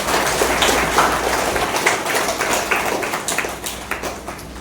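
Congregation in a church clapping during a thanksgiving Mass, a steady wash of scattered hand claps that fades slightly toward the end.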